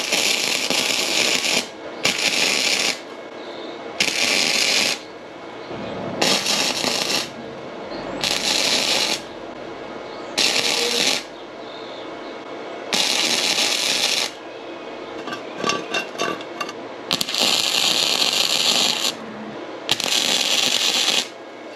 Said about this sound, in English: this thing through the sander, the little belt grinder thing